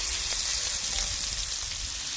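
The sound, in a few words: prawns frying in hot oil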